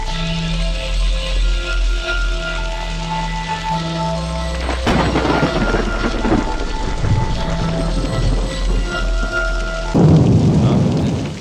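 A thunderstorm in the horror video game Nun Massacre: steady rain hisses throughout, and two loud, close thunder cracks roll out around the middle and near the end, with no speech.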